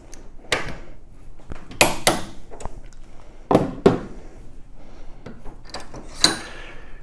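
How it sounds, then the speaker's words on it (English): A Graco grease injector is tightened with a socket, giving a series of irregular metallic clicks and ratcheting knocks at close range, spaced unevenly with short quiet gaps between them. "tighten it up with a socket"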